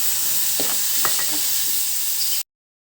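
Tomatoes hit a hot pan of sautéed garlic and onion for pinakbet, giving a steady close sizzle with a few soft stirring scrapes before it cuts to silence.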